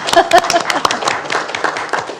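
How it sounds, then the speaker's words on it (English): Scattered clapping from an audience at a school board meeting, a short, uneven burst of individual hand claps with faint voices beneath it. "that deserves a clap"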